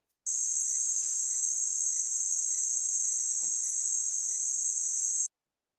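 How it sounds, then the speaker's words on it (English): High-pitched insects isolated from a field recording make a continuous, shrill, steady buzzing trill that starts abruptly, holds evenly for about five seconds and cuts off cleanly. "So we get some insects that are kind of high-pitched."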